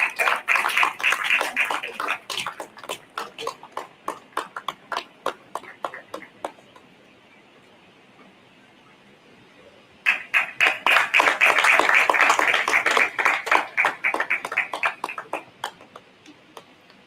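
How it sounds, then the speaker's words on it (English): Conference audience applauding after a call to clap for the chair at an annual general meeting, two bursts of dense hand clapping with a quiet pause between, the second louder and fuller. "let's be generous with our hand clap."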